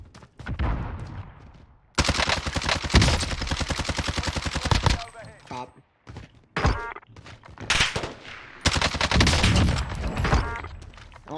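Automatic gunfire in Call of Duty Warzone (Cold War): several loud, rapid bursts of shots at close range, separated by short gaps and a few quieter single pops, with faint footsteps.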